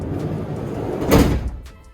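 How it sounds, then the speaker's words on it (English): The side door of a Mercedes Sprinter van, partway through a camper build with a new insulated floor, is pulled shut with one solid, near thud after a brief sliding rumble, under quiet background hum. "I'm going to close this door, make sure it closes all right."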